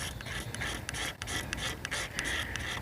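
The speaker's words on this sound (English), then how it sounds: "Scrape off some more." A survivor fire starter rod is scraped in rapid repeated strokes, giving a close, steady metallic rasp with brief sharp bright bursts and a short pause near the middle.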